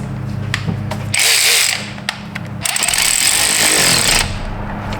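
Power tool or ratchet work on a 2018 Ford F-150 3.5 EcoBoost engine during an injector replacement: loud bursts of mechanical whirring and rattling, one short burst, then a longer sustained run, with no talk.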